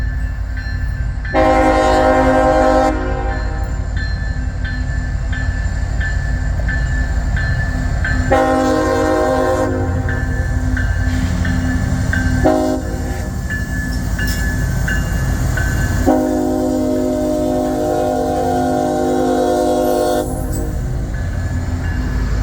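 An eastbound CSX mixed freight train with a single locomotive in front rolls past a crossing slowly and close, with a drawn-out, repeated horn blast sounding in several long bursts over the rumble of the wheels.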